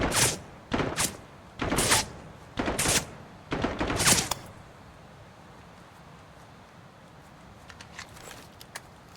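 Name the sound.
gunshots in video game Dagger Directive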